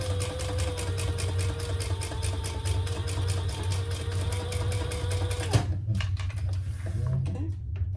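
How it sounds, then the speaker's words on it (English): A sewing machine runs steadily for about five and a half seconds, top stitching a small triskele mini wallet, then stops, followed by a few faint handling clicks and rustles. "This is top stitching, so do it as good as you can and then back up the side."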